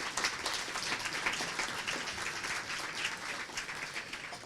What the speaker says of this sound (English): So I think we should have a round of applause for the folks who organized this to begin with.